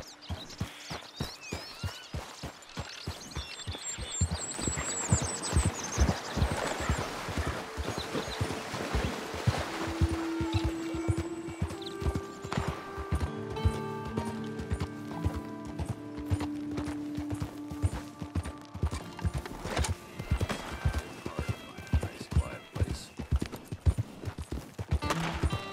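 Horse hooves in the video game Red Dead Redemption 2 gallop in a steady, rapid clip-clop rhythm over the whole stretch, fairly close, with faint background tones and occasional soft voice moments.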